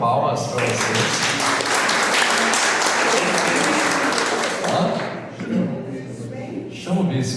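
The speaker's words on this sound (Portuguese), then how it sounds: "salva de palmas para vocês" Attendees of a Catholic parish class on the sacrament of Holy Orders break into sustained, dense applause that fills the room, fading toward the end as voices begin to murmur through the tail.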